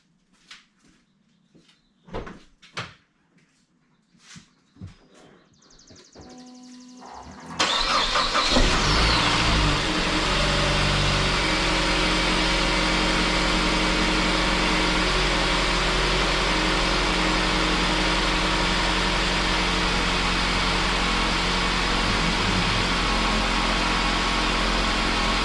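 A 230k-mile Saab 9-5 with a newly replaced water pump sits quiet through a few clicks and clunks, then cranks briefly and catches into a steady, close engine idle that runs on without talk.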